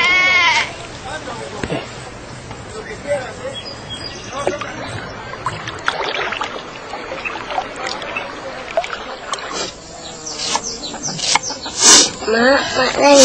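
Goats bleat repeatedly amid a busy mix of people talking nearby, the calls rising above the chatter now and then.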